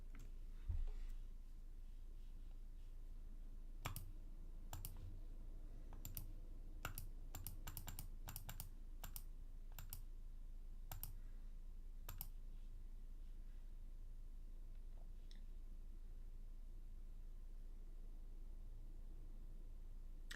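A computer keyboard is struck in sparse, irregular keystrokes, single taps and quick clusters of clicks, close and crisp against a faint, quiet room hiss with no talking.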